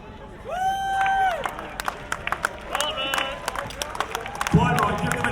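Spectators at the York Viking Festival battle re-enactment by Clifford's Tower cheer and clap for the Viking re-enactors: scattered sharp claps and a crowd roar over a steady babble of voices, with a drawn-out tonal call near the start.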